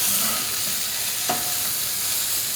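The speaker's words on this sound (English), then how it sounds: "as the sausages are cooking" Sausages sizzle steadily in a super-hot cast iron pan, a loud, constant hiss throughout, with one brief scrape or tap near the middle and no voices.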